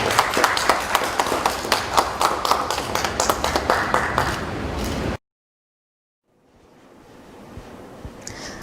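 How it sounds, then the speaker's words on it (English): A small group claps at a news-covered gathering, making quick, evenly spaced claps that cut off abruptly, followed by a moment of silence and then faint background noise. "Let's give them a round of applause."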